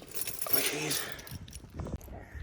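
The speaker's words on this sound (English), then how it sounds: "So let's get my keys." Keys jangle and clink briefly as they are picked up, a soft metallic rattle close by, followed by a few light knocks.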